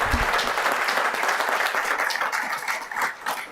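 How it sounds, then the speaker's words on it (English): An audience at a town council meeting applauds for a church congregation's honorees, a dense, steady clapping crowd that holds strong throughout and starts to thin slightly near the end. "Would y'all please help me and give y'all a round of applause?"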